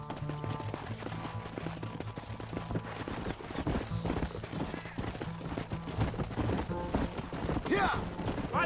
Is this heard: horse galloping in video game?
yes